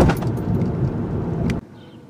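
Loose tools rattling inside a toolbox in the cargo area of a 2018 Hyundai Elantra GT as it rolls over a speed bump at about 30 mph, a dense clattering burst of rattles and knocks that stops abruptly.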